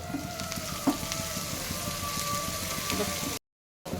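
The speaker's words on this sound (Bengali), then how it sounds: "মা এবার ফ্রাইং প্যানের মধ্যে সর্ষে ফোড়ন দিয়ে দিল" Mustard seeds sizzle in refined oil in a frying pan, a dense, continuous hiss with faint crackles and one sharper pop early on, close and steady until it cuts off near the end.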